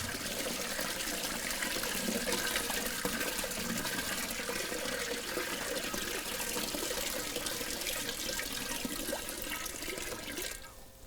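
Liquid pours steadily from a drum through an opened valve tap into a second container, with the drum held by a counterbalance drum lifter with a rotating attachment; a constant, full rushing flow lasts throughout and thins slightly at the very end.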